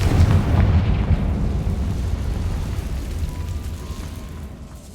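A Confringo fire spell explodes in Hogwarts Legacy on hard mode, a deep booming blast that rolls out loudly at the start and then fades into a long, low rumbling tail.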